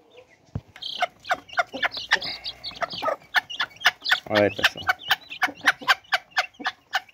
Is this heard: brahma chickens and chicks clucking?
yes